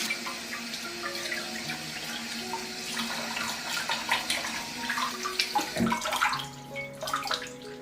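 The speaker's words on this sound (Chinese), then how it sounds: "买了2斤肉特别厚的牛腩，花了90块钱。 我们现在清洗干净。" Beef brisket, about a kilo of thick cut, is rinsed under a running tap, water splashing steadily into a sink with some drips and handling noises throughout, nearby and moderately loud, no talking.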